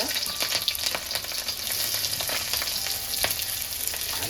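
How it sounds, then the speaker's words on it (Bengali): Green chilies fry in hot oil, a close, steady crackling sizzle dotted with quick utensil clicks and stirring sounds, with no voices. "আর প্রথম তেলের মধ্যে কাঁচা লঙ্কা দিয়ে দিলাম"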